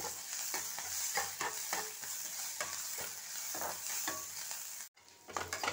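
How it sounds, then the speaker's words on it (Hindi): Continuous sizzling and crackling of ginger garlic paste sautéing in a pan, with stirring scrapes throughout and a brief pause near the end. "इसमें हम डालेंगे अपने अदरक और लहसुन का पेस्ट इसे भी थोड़ा सा सॉटी करना है"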